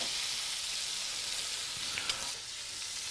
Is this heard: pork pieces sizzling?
yes